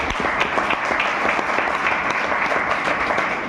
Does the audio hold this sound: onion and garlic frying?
no